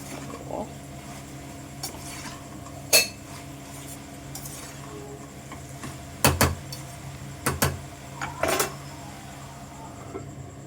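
Raw banana stir-fry stirred in a pan, with a spoon giving a few scattered metallic clinks and scrapes against the pan over a steady low background hum, close and moderately loud.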